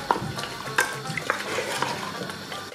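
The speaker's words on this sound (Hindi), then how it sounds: "अब इन तमाम चीज़ों को हम अच्छी तरह से मिक्स करेंगे और दोबारा 1 से 2 मिनट के लिए गोश्त को भूनेंगे" Mutton mixed with yogurt fries in a pan for dhaba-style bhuna gosht, with a constant sizzle and repeated sharp utensil scrapes and knocks against the pan every half second or so.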